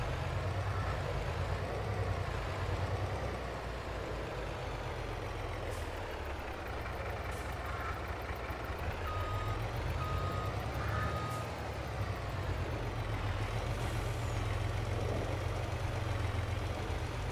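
A truck in the Farming Simulator video game, its heavy engine idling with a steady low rumble while faint intermittent reversing beeps sound over it, no voices.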